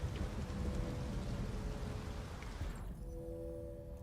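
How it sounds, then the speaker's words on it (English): Rain and rumbling thunder from the Detroit: Become Human game form a steady, close storm wash that fades slightly toward the end, with no voices. "And just like that, we can hear the rain."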